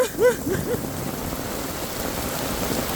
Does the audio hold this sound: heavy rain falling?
yes